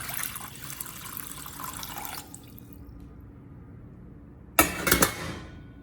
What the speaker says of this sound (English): Add water to the steamer and bring it to a boil.